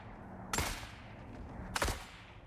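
Two sharp rifle reports from a .308 in The Forever Winter, about a second apart, each a loud broadband crack with a short decaying tail over quiet game ambience.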